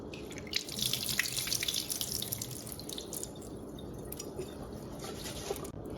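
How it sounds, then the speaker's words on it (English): Rice is rinsed under running tap water in a sink, with a steady rush of water and splashing throughout, close and fairly loud. "Remember when you're washing the rice to make sure you rinse it at least 3 times."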